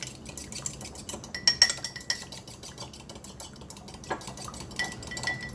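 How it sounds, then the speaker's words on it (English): Seasoned eggs being stirred in a bowl on a breakfast grill, with a utensil scraping and clinking against the bowl in a fast, busy, close rhythm. "And then I'll just stir it on up."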